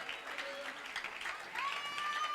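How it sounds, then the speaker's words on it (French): A church congregation applauds, a dense, steady patter of many hands clapping at moderate distance, mixed with crowd noise and a few faint sustained tones. "Une main d'acclamation au Seigneur."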